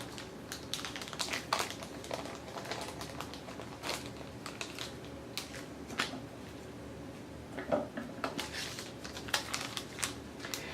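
A paper and plastic stencil package opened at the top, soft crinkles and scattered light clicks and rustles close by, fairly quiet.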